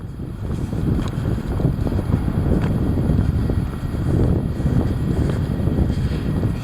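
Heavy wind blowing hard and continuously, a loud low rumbling roar buffeting the microphone for the whole stretch, with no voices.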